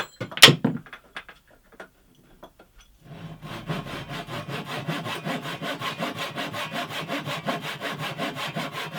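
Steady back-and-forth rasping of a hand saw cutting through wood while repairing a workbench vice, rhythmic strokes continuing after a few light knocks and a short pause.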